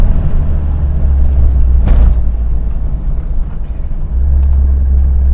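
An Austin Metro fitted with a Maniflow exhaust drives along, its engine and exhaust giving a steady, loud low rumble throughout with a brief whooshing swell midway and no talking.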